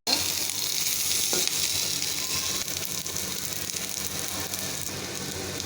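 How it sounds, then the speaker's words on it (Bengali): Onions sizzle lightly in a little oil with dried chilli for a dried fish bhorta, a steady, close, continuous frying hiss with a faint stir or two and no voices. "আর একটু তেল দিয়ে দেবো আমি, অল্প তেল দিয়ে পেঁয়াজটা হালকা"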